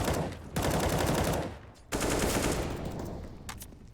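Rapid automatic gunfire bursts from Counter-Strike: Global Offensive on the Train map, a pro match at IEM New York 2020, loud and dense with a short pause, then more sustained firing.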